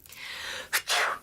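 A person sneezes twice in quick succession, the first a short sharp burst and the second a longer, breathier one, close and fairly loud after a stretch of quiet room noise.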